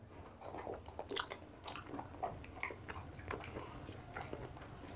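Chewing while eating mutton curry with potato and rice, soft wet close-up mouth sounds and occasional bites repeating irregularly, quiet and without talk.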